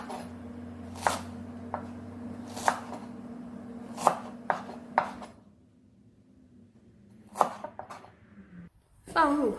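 A knife chops a bundle of garlic chive shoots into segments on a cutting board, with several sharp separate thwacks in an uneven rhythm, a quiet pause, then a few more cuts and a brief rustle.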